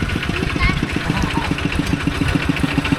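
A small single-cylinder Kubota walking tractor engine idles with a steady, rapid chugging rhythm, close by and loud, with some background voices in a rural village.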